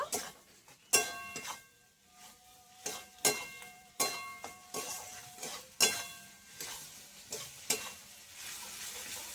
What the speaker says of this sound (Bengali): জিরের গুঁড়ো, দিয়ে একটু মশলাটা কষিয়ে নেব